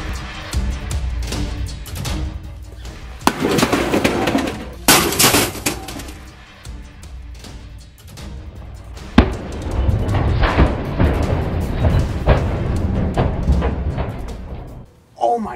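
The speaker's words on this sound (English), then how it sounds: "Today we pit a sledgehammer versus a microwave." A sledgehammer smashes a microwave oven in a series of loud, sharp blows, with crashing metal and shattering glass bursts between quieter pauses, close and forceful, with someone talking in between.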